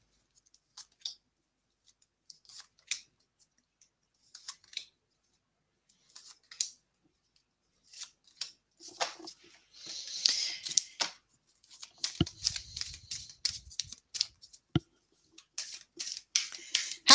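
Tarot cards picked from a deck and handled during a live reading, soft scattered shuffling and snapping card clicks, sparse at first, then in denser bursts of close, quiet rustling.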